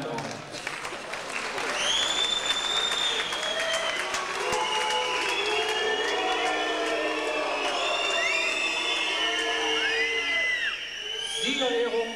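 An audience at the IFBB International Hamburg bodybuilding championship applauds steadily for about ten seconds, with whistles and whoops rising over the clapping before it fades.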